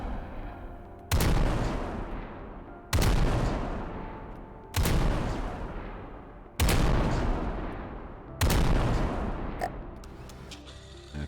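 Anti-aircraft guns on a light cruiser in the naval game From the Depths fire in heavy simultaneous volleys, five loud booming salvos about two seconds apart, each with a long rumbling decay.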